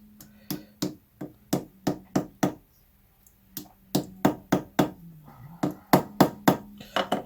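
Rapid series of crisp hammer knocks drive titanium, bronze and malachite ring parts through, close and punchy in two bursts separated by a brief pause, with a low steady hum underneath.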